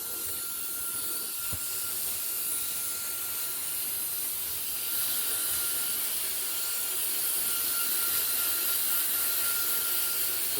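A steady, close rushing hiss from a mini leaf blower knocking chaff off freshly roasted Ethiopian Sidamo natural coffee beans, running unbroken and fairly loud.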